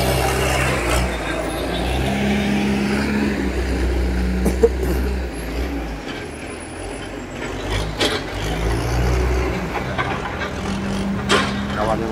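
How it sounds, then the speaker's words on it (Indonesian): A timber lorry carrying kempas wood rumbles in with a low, steady engine drone and brief hiss-like transients, a nearby voice speaking over it. "Tuh lori cek angkat kayu guys."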